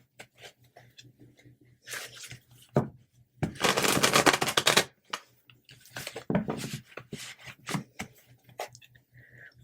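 Tarot cards being riffled and shuffled in several bursts, the longest a dense crackling run in the middle, with softer card handling and shorter flutters around it, close and fairly loud.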